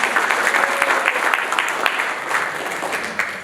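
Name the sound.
audience applause for the chief guest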